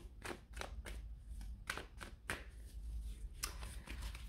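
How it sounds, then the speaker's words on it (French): Tarot cards are drawn from a deck and laid down on a table in a string of crisp, short slaps and flicks, several in quick succession, close and moderately quiet with no voices. "Je vais aller remettre tout de suite une carte sur ce 7 d'épée."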